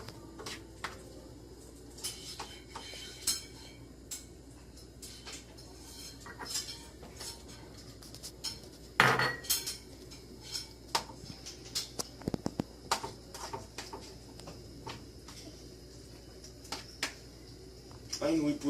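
Metal utensils clink and scrape against a bowl while mixing tomato and other ingredients, a steady run of small sharp clatters with a couple of louder knocks, under intermittent talking.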